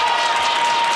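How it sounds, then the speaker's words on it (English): A hockey crowd at a club championship game roars loudly and continuously during a penalty kill, a dense wash of cheering and clapping with a thin steady tone running underneath. "Crowd going insane here."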